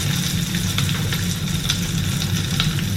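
Pop Rocks candy fizzing in water, a steady dense crackle of tiny pops with scattered sharper snaps over a constant bubbling hiss, close and even throughout.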